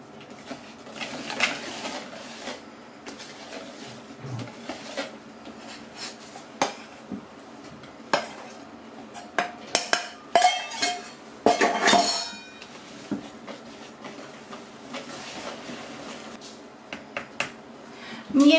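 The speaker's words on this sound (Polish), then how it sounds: "Mieszamy ciasto tylko do wymieszania składników, nie dłużej." Coffee-walnut babka batter being mixed with cream and flour in a bowl, irregular clinks and scraping taps of a utensil against the bowl, sporadic and close, with a busier burst of rattling near the middle.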